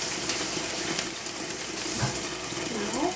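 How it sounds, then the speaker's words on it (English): Warm tap water runs steadily over hands at a kitchen sink, a continuous bright hiss and splash that stays even throughout, with no talking. "The water is warm, it's a finger temperature, and I wash my hands."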